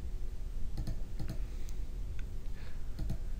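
Computer mouse clicks sound while outlines are traced in drawing software, a few sharp, close clicks, some in quick pairs, spaced irregularly over a faint background hum.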